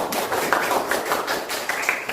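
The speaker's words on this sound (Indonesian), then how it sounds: "Tepuk tangan dulu untuk semua kelompok." Students in a classroom clap for all the groups after a lesson, a steady patter of hand claps lasting a couple of seconds with no talk over it.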